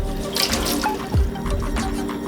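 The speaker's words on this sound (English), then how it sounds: "rinse out your sink, all the soap." Kitchen tap water running into a sink during dish rinsing, a steady close splashing rush with small drips and a brief gurgle, no talk.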